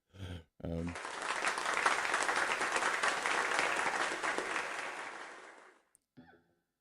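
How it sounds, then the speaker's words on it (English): Live-stream audience applause: a burst of steady clapping that swells for about five seconds and then fades, with a short spoken word just before and a voice again as it dies away. "Thanks for those claps."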